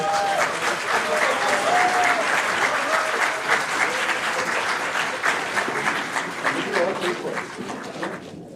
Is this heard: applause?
yes